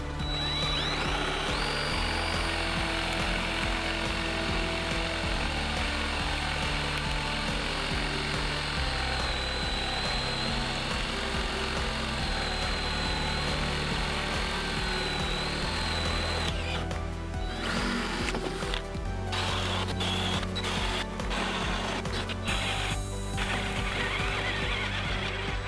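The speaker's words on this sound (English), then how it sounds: "I put it back in the drill and grabbed the largest Forstner bit I have" Dewalt 20V Max compact drill boring a hole in wood with a large 1 3/8-inch Forstner bit, a steady loud whine running nearly the whole time, then stuttering and cutting in and out toward the end.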